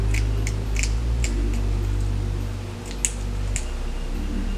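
Scissors snip off the lace ear tab of a wig frontal, giving several quick, close, crisp cutting clicks over a steady low background hum.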